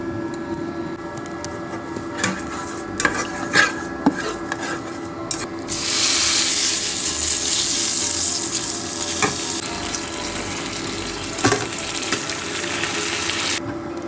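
Japanese fried noodles stir-frying in oil, starting with scattered clinks and scrapes before a broad sizzling hiss swells up midway and continues steadily, with a few sharp utensil knocks.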